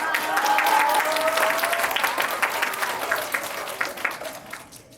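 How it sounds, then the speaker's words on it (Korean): Audience applause fills a camp concert hall, a dense, steady wash of many hands clapping with a few faint cheers, fading slightly toward the end. "큰 박수 부탁드릴게요"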